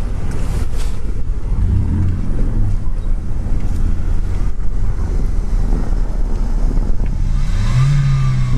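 A Lada Niva 4x4 engine revs hard with the front right wheel spinning on a mountain slope, a steady loud droning roar with some wind buffeting, no talking.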